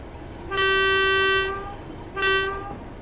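A Class 31 diesel locomotive heading for Paddington in Train Sim World 3 sounds its horn: a loud, sustained two-tone blast of about a second, then a shorter second blast after a pause, over a low running rumble.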